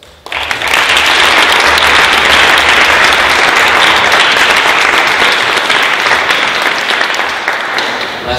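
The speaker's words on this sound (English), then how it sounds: "So I'm going to just have a round of applause for the photographers," A wedding crowd claps loudly for the photographers and venue staff. The applause starts abruptly and holds as a full, sustained roar of many hands before easing slightly at the end.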